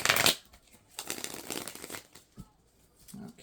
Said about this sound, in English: These cards shuffle well,